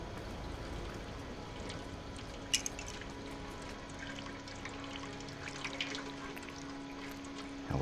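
Water pours and trickles in the video game Stray, a faint, steady watery wash with scattered small drips and splashes, quiet and continuous.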